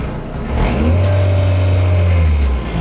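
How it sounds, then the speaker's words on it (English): A car's clutch grabbing while the engine revs, giving a sustained tonal squeal over a loud, rising engine roar heard up close, with no speech. "Like at the beginning when the clutch grabs, it squeals"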